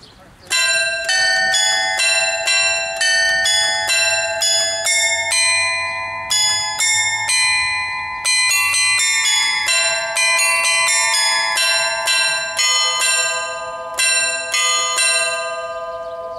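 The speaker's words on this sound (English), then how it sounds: "But now we just got to wait for the bells to ring." Carillon bells in Clive Square, Napier ring out a melody, with bright overlapping tones struck in steady succession, loud and resonant, each note sustaining under the next.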